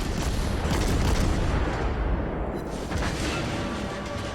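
Enemy shells striking a ship in a naval video game, a dense, loud roar of booming impacts and rumbling blasts that continues without a break, with no talk.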